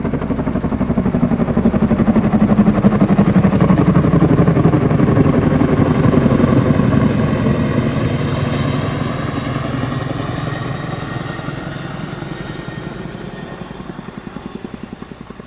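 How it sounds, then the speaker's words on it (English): A Chinook helicopter passes overhead during a Memorial Day ceremony in White Bear Lake, its rapid rotor chop loud and thumping, then gradually fading as it moves away. "Flying over you is a Chinook helicopter like Major Curtis Feistner flew."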